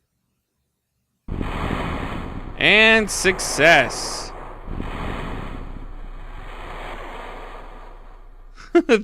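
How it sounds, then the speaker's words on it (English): A capsule splashes down in water in the Kerbal Space Program video game: a sudden loud rush of broadband surf-like noise that settles into a steady wash, with a person speaking briefly over it. "Hopefully they survive hitting the water here."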